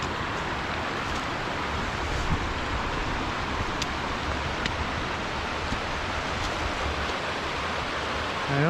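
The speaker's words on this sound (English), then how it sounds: "Oh, there's another waterfall up here." Steady, full-band roar of a waterfall on a creek in the Hoh River rain forest of Olympic National Park, heard close and continuous with no voices over it.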